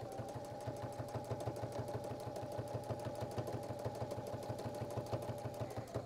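Sewing machine stitching with contrast thread, going forwards then backwards, a close, steady rapid mechanical chatter of needle strokes running continuously without talk.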